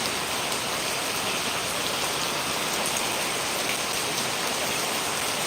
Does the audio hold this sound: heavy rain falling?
yes